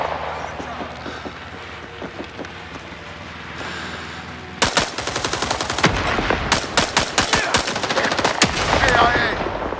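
Enemy machine-gun fire in the Vietnam War shooter Rising Storm 2: Vietnam, with scattered distant shots that turn into loud, rapid automatic bursts of several weapons firing close by.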